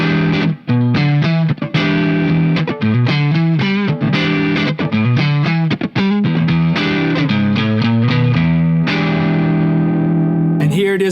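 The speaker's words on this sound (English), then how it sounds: "here's what the Funky Vibe sounds like with the volume right around 9." Electric guitar through a Sabbadius Funky Vibe Real Size 1969 Shin-ei Uni-Vibe style pedal with volume near 9, dense chords and riffs with a warm, throbbing modulated, slightly driven tone, loud and continuous.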